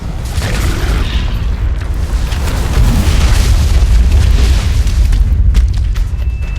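A Tyrannosaurus rex's head blows apart in a Jurassic Park-themed video game, a loud, dense booming roar that rumbles steadily through the whole stretch without fading.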